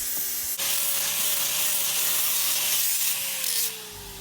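A grinding pad working old weld material off a steel concrete mixer, a loud steady abrasive rasp with a faint tonal whine that runs nearly continuously for about four seconds before easing off near the end.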